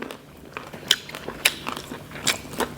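Several crisp crunching bites of fermented pork skin, close up and fairly quiet, spaced irregularly with brief pauses between chews.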